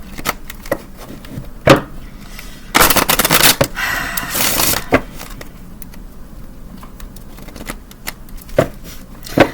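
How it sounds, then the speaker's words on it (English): Tarot cards are shuffled and pulled, with one loud riffling flurry midway and scattered soft taps and flicks of card handling before and after. "I'm going to go ahead and start pulling cards."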